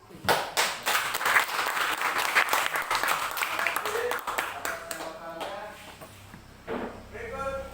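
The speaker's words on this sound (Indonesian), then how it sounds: "Kita berikan aplaus dulu." A classroom audience claps together in sustained applause during a peer-teaching session, a dense wash of hand claps that gradually thins out as voices begin speaking near the end.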